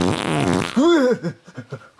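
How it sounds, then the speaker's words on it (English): A comedic fart noise from a Christmas comedy skit, a loud, sputtering, pitch-bending blast of about half a second followed by a few shorter trailing puffs. "I guess a fart"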